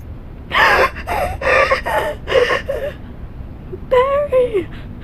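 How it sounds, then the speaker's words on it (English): A woman's panicked, ragged heavy breathing, nearly choking, in a series of close, loud gasping breaths and whimpering moans, with a strained wail near the end. "She was breathing so raggedly and heavily now that she almost began to choke."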